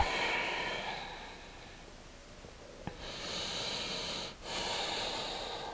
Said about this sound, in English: Keep breathing fully in and out through the nose.